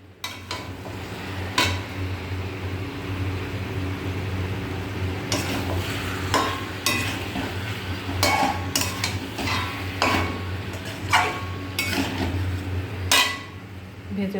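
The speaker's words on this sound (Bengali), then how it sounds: "এবার ঢাকাটা তুলে আবার একটু নাড়া দিয়ে দেবো।" Chicken frying in a pan as the lid comes off and a spoon stirs it, a steady close sizzle broken by repeated sharp scrapes and clanks of utensil on metal, with no talk.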